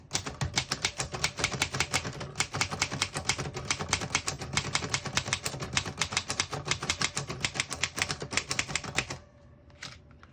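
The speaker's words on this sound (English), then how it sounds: "Really nice typing machine. It's got that really classic sound when you're typing" Rapid, steady typing on a 1941 Remington Remette portable manual typewriter, crisp key strikes in a continuous run, close up, ending with a pause and a couple of faint clacks.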